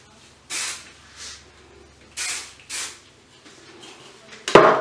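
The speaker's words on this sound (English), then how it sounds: "Give it a quick spray." Several short, quick hisses of hairspray from an aerosol can misted onto freshly wand-curled hair, close and fairly soft, in an irregular sequence of about four bursts followed by a brief clatter.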